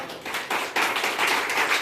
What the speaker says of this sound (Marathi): यांच्यासाठी जोरदार मनातून एक वेळा टाळ्या.